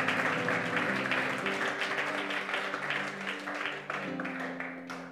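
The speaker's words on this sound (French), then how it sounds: "Acclame pour ta vie." A church congregation applauds in a steady wash of clapping, moderately loud and sustained throughout, with faint voices and a tonal hum underneath.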